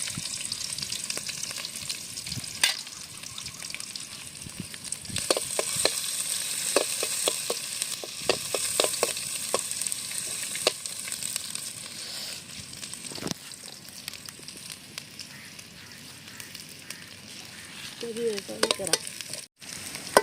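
Ginger and garlic frying in oil for a Kerala-style crab roast: a steady, close sizzle with frequent sharp scrapes and taps of a spatula stirring through the pan, no voices.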